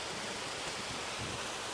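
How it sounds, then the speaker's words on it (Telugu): Water from a waterfall rushes in a steady, dense broadband roar with no pauses or voices. "So experience the sound of the water."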